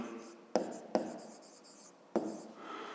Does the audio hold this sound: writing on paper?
yes